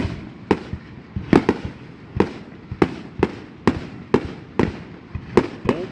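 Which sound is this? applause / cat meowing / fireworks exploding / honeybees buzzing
fireworks exploding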